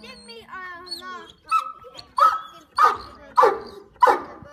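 A female Bully Kutta dog barks close by in a series of about five loud, evenly spaced barks, preceded by whining yips, with no talk over them.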